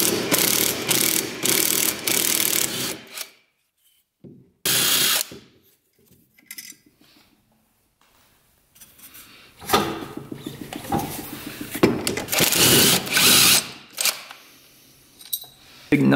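A ratchet works 10 mm bolts off the flywheel of an old snowmobile left sitting for 30 years, in several loud bursts of rapid clicking separated by quiet gaps, with a faint voice in between.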